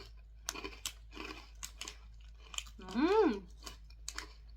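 Crisp bites and crunchy chewing of a sugar-coated, sweet and savory potato rice cracker come in several short close bursts, followed by a brief hummed vocal sound.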